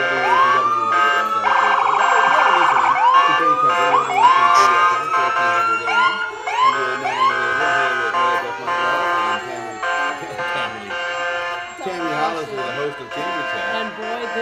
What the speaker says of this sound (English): here's the Ashland Fire Department lighting up tonight. You can probably hear them over our microphone here